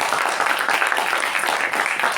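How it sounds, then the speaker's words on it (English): Audience applause for two speakers at a Toastmasters club meeting, a steady even patter of many hands clapping throughout the short stretch. "let's give a big round of applause to both the speakers"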